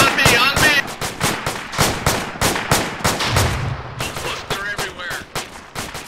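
Rapid bursts of airsoft suppressive fire during a skirmish around a hay bale, sharp repeated cracks in quick irregular volleys, close and loud, with faint shouting between shots.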